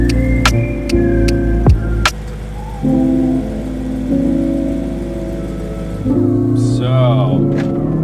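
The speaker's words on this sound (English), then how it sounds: "the car is bone stock except for the full Valvetronic system, which you can hear" A BMW E9X M3, stock apart from a full Valvetronic exhaust, idles with a deep, steady exhaust drone. It gives short blips and rises in revs partway through, with some mechanical clicks and whirs, fairly close and loud.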